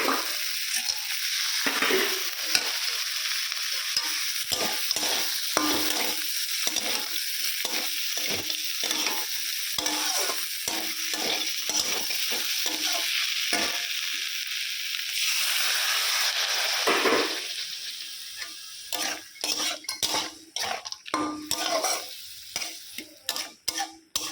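Bitter gourd with shrimp frying in a pan, a constant close sizzle with repeated rhythmic scrapes of a spatula stirring, turning into sharper, more broken scraping toward the end.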